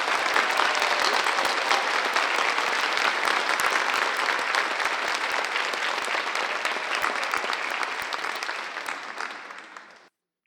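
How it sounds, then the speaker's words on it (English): A large audience at a public safety awards ceremony claps loudly and steadily for about ten seconds, with dense, sustained applause that cuts off abruptly at the end. "Let's give them all a big round of applause"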